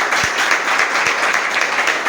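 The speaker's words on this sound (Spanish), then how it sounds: "yo creo que un fuerte aplauso para bueno" Audience applauding at a book presentation, a steady dense wash of hand claps lasting a couple of seconds with no talk over it.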